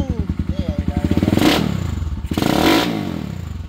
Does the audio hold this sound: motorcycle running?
yes